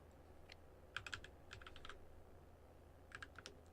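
Keys clatter on a custom office keyboard, with a few quick clusters of light, crisp clicks separated by pauses, quiet and close against a faint background hum.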